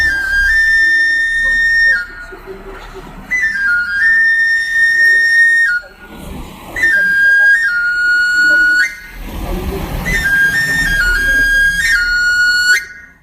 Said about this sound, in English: every amolador plays the same sequence of notes on one of these little plastic whistles